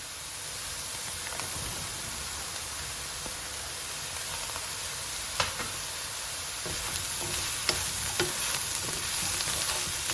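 Chopped aubergine frying in a pan over high heat, a steady close sizzle with a few faint clicks and stirring knocks, no talking.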